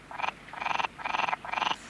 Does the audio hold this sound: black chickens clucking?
no